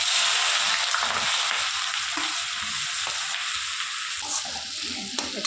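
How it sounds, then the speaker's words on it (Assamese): Onions fry in hot oil with a strong continuous sizzle, bright crackling hiss heard up close, a few stirring scrapes and bumps mixed in as it slowly eases off. "এতিয়া দিম মই পিঁয়াজ"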